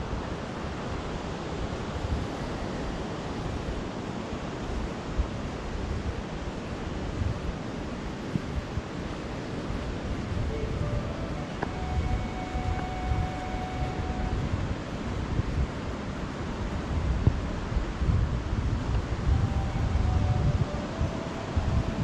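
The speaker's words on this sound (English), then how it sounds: "The sound of the sea is nice down here." Sea waves wash steadily onto Benone Beach in County Londonderry, a continuous broad surf roar mixed with wind buffeting the microphone, with no talking.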